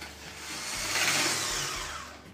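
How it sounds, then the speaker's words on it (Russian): Electric hand mixer whirring through cocoa cake batter, a steady motor whine that swells and eases as the beaters work, close and fairly quiet, with no talk. "Сначала перемешиваем просто, а потом включаем миксер, чтобы получилось однородное"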